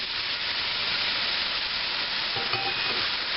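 Wine cooking down in a pan for stuffed mushrooms makes a steady, even sizzle and hiss that stays close and constant throughout, with a faint clink of a utensil partway through.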